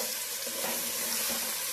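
Chopped vegetables and green chillies fry in hot oil for a vegetable pulao, giving a dense, continuous sizzling hiss that stays close and even throughout.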